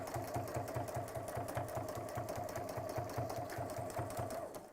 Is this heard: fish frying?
no